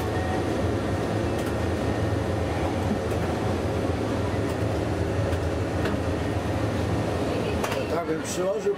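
A train rumbles steadily along the rails with a continuous low roar and faint clicking, heard from inside, loud and unbroken throughout.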